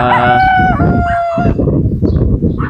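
A rooster crows loudly and close by, one long cock-a-doodle-doo with clucking and other fowl sounds around it.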